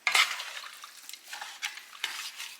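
Mutton mixed by hand with water, chopped ginger and garlic for a Kerala-style curry, heard as wet squelching and scraping bursts against the vessel in an uneven rhythm, close and moderately loud, without speech.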